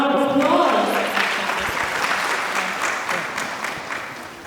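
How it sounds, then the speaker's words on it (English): Audience at a founders summit panel gives a steady round of applause, loud at first and tapering gradually, with a brief stretch of talk at the very start. "A round of applause."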